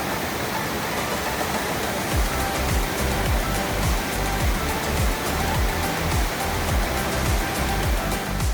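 A heavy-flow waterfall in Haleakala National Park, Hawaii, roars as a loud, steady, dense rush of falling water that fills the whole clip without a break, and no voices are heard.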